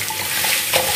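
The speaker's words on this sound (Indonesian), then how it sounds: "Sebelum direbus, ini aku mau cuci dulu." Mung beans being rinsed in water in a kitchen bowl, a brief continuous sloshing and swirling of water and beans with a slight surge near the end, no talking.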